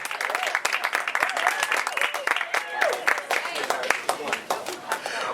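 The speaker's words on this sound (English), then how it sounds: "One more round of applause for Sam, ladies and gentlemen." Wedding guests applaud after a toast, with sharp distinct claps from many hands, fairly close and uneven in rhythm, while voices chatter and call out underneath.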